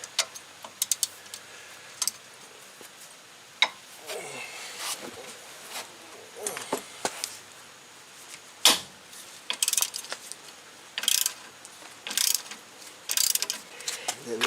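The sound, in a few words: removing brake caliper bolts with a ratchet wrench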